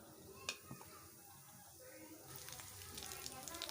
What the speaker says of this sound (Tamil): கொஞ்சம் கொஞ்சமாக போட்டு பொரிச்சு எடுத்துக்கலாம்